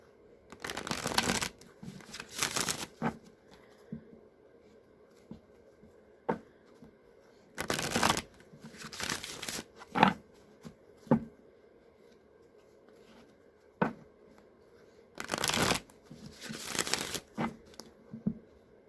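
Tarot cards are shuffled in several separate bursts of crisp riffling and flicking, each a couple of seconds long with short taps and quiet pauses between them, close and clear with no talking.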